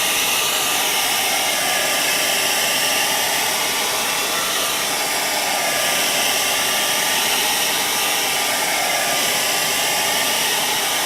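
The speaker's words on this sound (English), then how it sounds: "So we're going to turn the dryer on" A hair dryer blows steadily on natural hair, a loud continuous whooshing hum that stays constant throughout with no talking.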